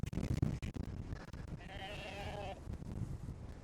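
A sheep on a windy farm gives one clear, wavering bleat at moderate distance. Gusting wind roars and rumbles before and after it.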